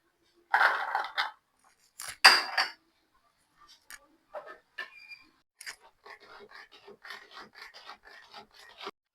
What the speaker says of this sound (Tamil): வெங்காயம், பச்சை மிளகாய், பூண்டு, இஞ்சி எல்லாம் வந்து நம்ம இந்த மாதிரி சாப்பர்ல போட்டு தான் நம்ம பண்ண போறோம்